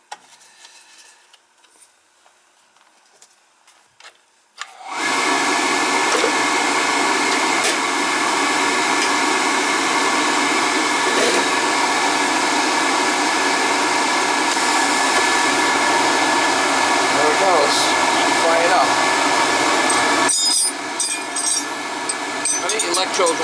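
A Riello oil burner, previously failing to fire, ignites after quiet clicking and handling noises, then roars into a loud, steady whooshing burn that holds for more than fifteen seconds before briefly dipping.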